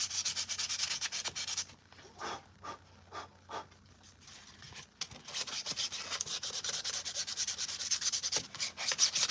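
Hand sanding of Mandalorian armor pieces in a workshop: a run of short rhythmic rubbing strokes, close and fairly quiet, followed by longer continuous scraping passes with brief pauses.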